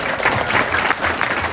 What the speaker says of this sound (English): So big round of applause for our seniors,